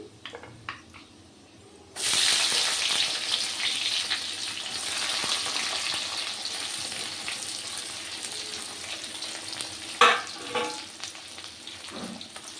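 Onions drop into a hot pan with oil, bay leaf and dried chili and burst into a loud, steady sizzle that holds for about ten seconds after a quiet start, with a brief stir near the end.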